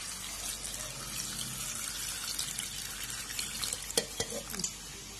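Water poured from a vessel into a pot holding dal, tomatoes, chilli powder and turmeric for tiffin sambar, a steady faint splashing pour with a few brief clinks near the end.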